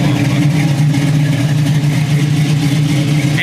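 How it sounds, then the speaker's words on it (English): A turbocharged Buick Grand National Regal engine idles close by with a steady, even low rumble and a continuous mechanical hum that holds at one level throughout. "It's idling. It idles fine."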